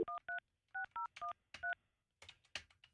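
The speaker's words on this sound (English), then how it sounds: "All right, calling Chloe." A quick series of phone keypad tones beeps in an uneven rhythm, followed by soft tapping and button clicks, fairly quiet and close.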